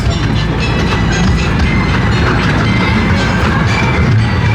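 A miniature train rumbles along the rails with rattling wheel clatter, loud and continuous from start to finish.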